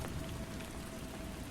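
Steady rain falls throughout, a dense even hiss of drops on surfaces with no breaks and no voices.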